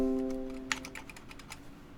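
A quick burst of keyboard taps clicks away at close range just after a short voiced tone fades out.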